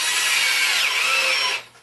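A screw gun drives flooring screws into a plywood subfloor laid for tile. A steady, loud motor whine runs for about a second and a half, then cuts off abruptly.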